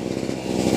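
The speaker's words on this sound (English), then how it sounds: "I'm chainsaw milling here." A chainsaw rips lengthwise through a log in a milling cut, its chain filed without rakers; the engine drones loud and close, holding a steady, gritty snarl for the whole stretch with no talk over it.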